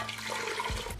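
Water is poured into a pot holding four pounds of cut sweet potatoes and orange juice, a steady close splashing rush lasting about a second with no talk.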